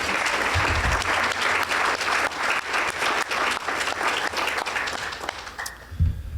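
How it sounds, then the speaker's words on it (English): An audience at a chamber of commerce luncheon applauds, a dense steady clapping that fades out near the end, with no talking over it. "So let's give Vonnie another round of applause, please."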